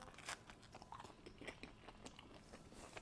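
Someone bites into and chews the crunchy base of a stonebaked ham and pineapple pizza, making close, quiet, irregular crunches and crackles that continue throughout.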